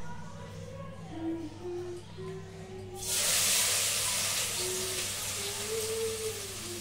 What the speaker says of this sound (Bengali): এবার পেঁয়াজ ভাজা দিই।